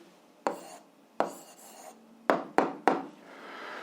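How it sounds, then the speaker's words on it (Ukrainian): Handwriting on paper gives five short scratchy strokes at uneven intervals, close and crisp, with quiet pauses between them and no talk. "Записуємо відповідь, пишемо відповідь."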